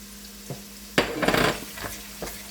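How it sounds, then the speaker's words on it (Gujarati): Finely chopped onion is dropped into a pan of hot oil with asafoetida, making a sudden loud sizzle that swells for about half a second and then settles into a softer crackle with a few light scraping stirs, close by and without speech. "મેં એક ડુંગળી સમારીને લીધી છે ઝીણી, તે નાખી દઈશું"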